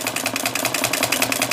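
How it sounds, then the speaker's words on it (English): A small model wobbler engine of the hit-and-miss type, its cylinder rocking instead of the rod pivoting, runs steadily nearby with a rapid, even chuffing beat and metallic rattle, heard alone. "This one is called a wobbler engine. As you can see, the cylinder wobbles back and forth instead of the connecting rod"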